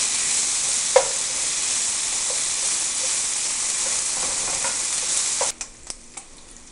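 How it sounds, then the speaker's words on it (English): Bacon for a beef stew sizzling loudly in a pot, a steady bright frying hiss with faint scrapes of stirring, then a few sharp clacks of the spoon near the end, close up and without speech. "So here we are about 5 minutes into the bacon cooking"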